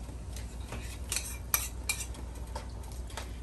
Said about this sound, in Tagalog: ngayon lagay natin tong hipon